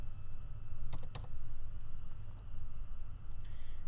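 Typing on a computer keyboard: a few quick bursts of crisp key clicks separated by pauses, close and clear over a low steady room hum, no speech.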